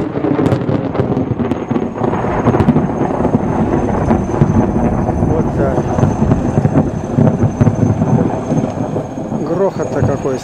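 Deep, rolling thunder rumbles continuously through a thunderstorm, loud and sustained with bursts of crackle and wind buffeting, while someone speaks over it.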